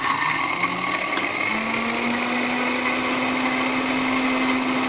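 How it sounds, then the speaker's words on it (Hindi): A blender whirs steadily while it blends egg, lemon juice, garlic and salt for Lebanese toum. The motor drone is loud and constant, and its pitch creeps slightly upward over the few seconds. "2 से 3 मिनट तक हमने अच्छे तरीके से ब्लेंड करना है अंडे को और लेमन जूस को"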